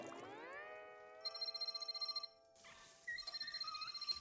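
A cartoon telephone rings inside a shower in a SpongeBob SquarePants episode, with a bright repeating electronic bell tone that pauses briefly and then resumes, loud and close, with no talk over it.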